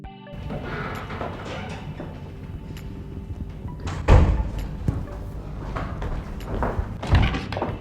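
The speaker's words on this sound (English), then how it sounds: "I heard the door." Door sounds in a home: a sharp slam or thud midway, then another knock later, over steady background rustle and handling noise, fairly close, with no talk during the clip.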